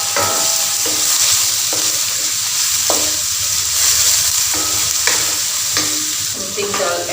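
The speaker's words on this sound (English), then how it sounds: "At this stage you will add in the tomatoes." Tomatoes and coarse salt go into a sizzling curry base for Indian fish head curry, producing a loud, steady close-up frying hiss with stirring, continuous across the whole stretch and free of talk.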